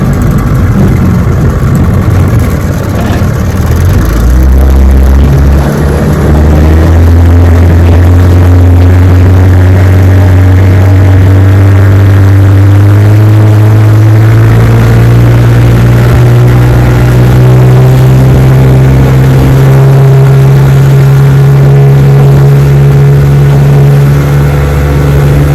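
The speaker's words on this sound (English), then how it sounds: "Awesome motor. Let's take it for a run." A 1973 Johnson 9.5 HP outboard motor runs on a lake, a loud, steady drone close by whose pitch climbs slowly as it speeds up, with no talk over it.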